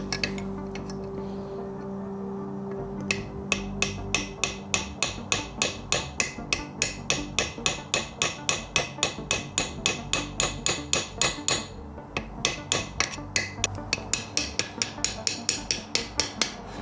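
Rapid, regular metallic hammer strikes on a bolt during a Mitsubishi 4B11T engine rebuild, ringing out one after another, with a couple of brief pauses, close and fairly loud.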